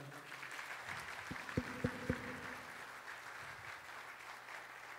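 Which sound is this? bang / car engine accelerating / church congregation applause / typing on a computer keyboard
church congregation applause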